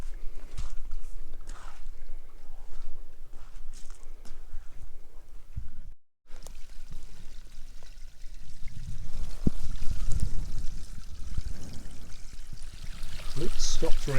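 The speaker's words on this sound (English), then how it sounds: "you can see how much water is still flowing out of the pipes from the drains" Heavy flow of rainwater pouring from drain pipes on rural land a day after heavy rain, a steady rushing splash running throughout with a brief gap, under someone talking.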